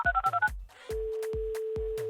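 Several quick telephone keypad beeps in a row, then a steady line tone begins, with sharp clicks scattered throughout.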